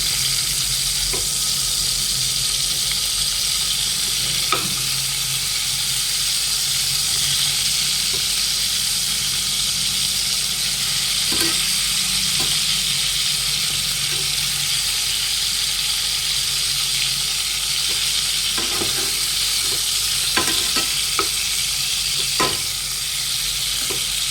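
Steady sizzling of brinjal curry frying in a pan, with occasional scraping clicks of stirring throughout, no voices.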